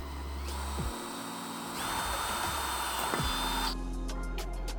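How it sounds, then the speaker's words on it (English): A power drill bores a hole through a hard metal Subaru dipstick using a sharp bit, whining steadily in two long bursts with a brief pause between and no talking. "Make sure you're drilling straight."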